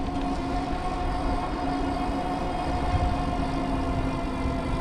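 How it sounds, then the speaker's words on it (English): A steady electric hub motor on a beach cruiser e-bike whirs at cruising speed around 13 mph, a constant close drone with a faint tonal whine and wind rush, no talking. "the motor's definitely whirring a little bit here"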